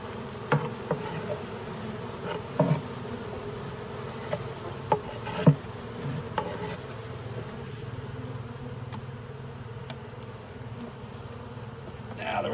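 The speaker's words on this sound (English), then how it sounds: "Now the rest of these we'll let buzz around and find their way into this new hive." Honey bees swarm around a hive box during a transfer from a swarm trap, a steady close buzzing drone running throughout with scattered faint knocks and bumps.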